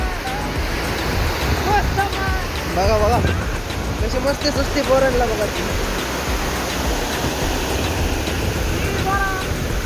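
Water from a village lake overflowing after heavy rain pours and rushes in a loud, continuous roar, while someone talks excitedly over it.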